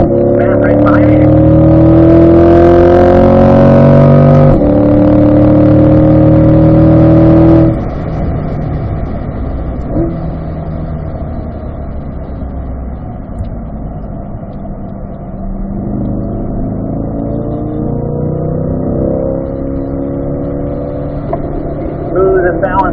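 A 2020 Corvette Z51 on track at Spring Mountain Motorsports Ranch revs loudly with rising and falling engine tones for several seconds, then settles to a quieter cruising drone, with voices talking over it.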